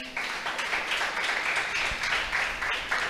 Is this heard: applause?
yes